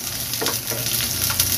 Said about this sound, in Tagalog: Nagtitilapsik yung mga mantika